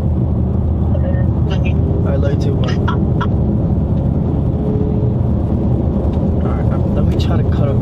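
A Mercedes-Benz AMG car driven fast, its loud, steady engine and road roar running unbroken throughout while people talk over it.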